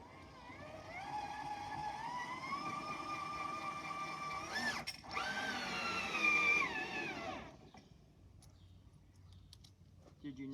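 A power drill driving bolts with washers during a track installation, whirring in rising and steady tones through two runs with a brief pause between, then stopping into quiet room sound.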